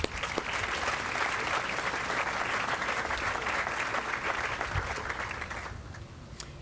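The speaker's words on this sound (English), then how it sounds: "let's give them a round of applause." An outdoor crowd at a new stadium groundbreaking ceremony claps in a full, steady round of applause, dense and lively for several seconds before thinning and fading out near the end.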